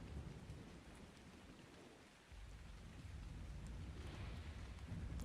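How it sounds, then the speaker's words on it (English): Steady heavy rain pours throughout a thunderstorm in the Ark Survival Ascended game, with low rumbling thunder swelling beneath the downpour partway through. "Look at the freaking storm."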